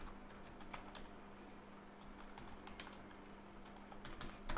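Faint, quick keystrokes on a computer keyboard while text is typed into a website design layout, with irregular soft clicks over a low steady hum and no voices.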